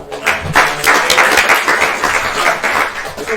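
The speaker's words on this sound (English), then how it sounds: "I'll give a round of applause" An audience at a teen wellness forum in a library room gives the panelists a loud round of applause. Dense, steady clapping fills the whole stretch close by.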